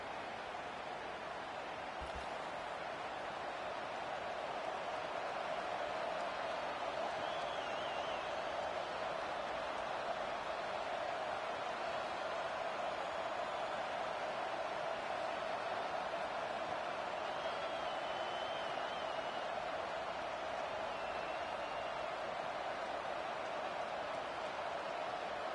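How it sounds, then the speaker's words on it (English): A roaring stadium crowd fills a college football game in NCAA 25, a dense, unbroken wash of cheering noise that holds steady at full level throughout, with no clear talking on top. "Listen to this crowd."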